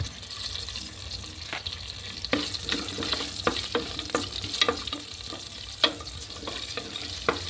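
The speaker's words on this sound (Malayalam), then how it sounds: "ഇനി ഇതിലേക്ക് കുറച്ച് പെരിഞ്ജീരകവും 2 കഷ്ണം പട്ടയും ചേർക്കാം." Fennel seeds and cinnamon pieces frying in a pan for masala dosa filling: a constant hiss of hot oil with frequent sharp scrapes and clicks of stirring, close and fairly busy.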